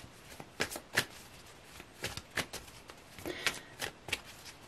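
Tarot cards are shuffled close by in quick, uneven bursts of crisp riffling and slapping, a dozen or so sharp flicks against quiet room tone.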